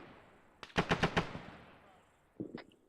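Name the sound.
gunfire in a video game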